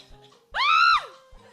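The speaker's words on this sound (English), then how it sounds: "For the most original scream in the audience." An audience member lets out a single loud, high, rising-and-falling scream lasting about half a second in a theater, with a short gap of quiet and faint sounds on either side.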